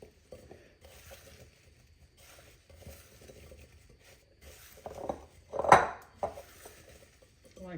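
A spatula scrapes and clinks in a mixing bowl of apple fritter bread batter in short, irregular strokes, with one louder clatter near the end and quiet gaps between the strokes.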